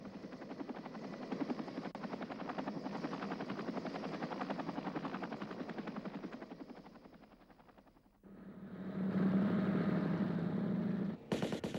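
Military helicopters in flight, a loud steady rotor thump that fades and drops away, then comes back as another chopping pass with a rising whine before a sudden cut, and no talking.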